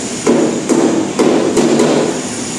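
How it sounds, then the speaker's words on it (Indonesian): A body hammer striking a car body panel to flatten it, five sharp metallic blows in a loose, steady rhythm, close and loud. "pemukulan sedikit untuk meratakan bagian bodi sini."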